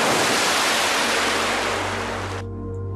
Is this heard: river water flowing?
yes